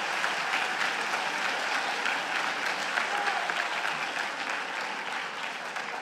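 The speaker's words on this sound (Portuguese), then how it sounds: "Dê uma salva de palmas para ele." Steady, dense applause from a church congregation fills the space, a continuous wash of many hands clapping at a moderate distance with no break, easing off slightly toward the end.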